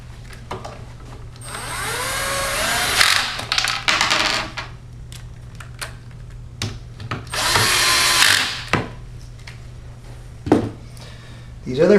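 Power drill driving bolts on a Martin Yale 7000E machine, two whirring bursts with rising pitch and clattering metal handling between them, close and fairly loud.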